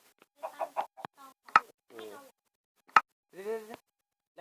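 Chickens in Minecraft give short clucks and squawks, several spaced bursts. They sound close and fairly clear, with quiet gaps between the calls.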